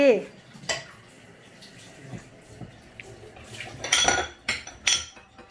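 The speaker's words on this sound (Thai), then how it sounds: "ขยันมากเช็ดจาน ช่วยแม่ล้างจานเช็ดจานนะคะ" Dishes being washed and wiped at home, with clinking plates and cutlery in a busy sequence of knocks and scrapes and bursts of clatter near the end, over a low background of water and household noise.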